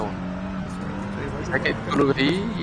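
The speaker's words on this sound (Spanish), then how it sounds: "la weá suena, suena obviamente V8" A Toyota 1UZ V8 swapped into an old American car in the Assetto Corsa racing game revs and drones, rising in pitch as it accelerates near the end, heard under people talking.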